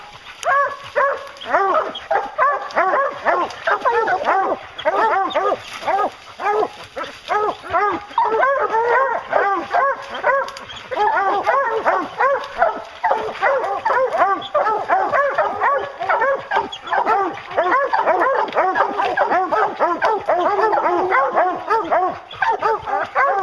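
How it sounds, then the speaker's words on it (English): Hunting hounds barking at a treed bear: a dense, continuous chorus of excited barks, yips and bawling from several dogs, loud and close, with someone shouting over them. "Get him, you dog."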